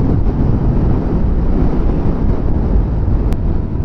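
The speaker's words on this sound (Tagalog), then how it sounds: "umaga pa lang malakas na yung hangin." Strong wind roars and buffets the microphone in a constant, loud rush with no break, at the Cangaranan Bridge in Antique, Philippines.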